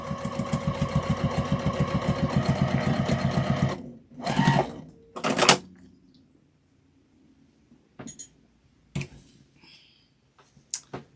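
A sewing machine restitches a mug rug seam in a steady, fast run of needle strokes for about four seconds, then a few short bursts and scattered clicks follow amid near silence.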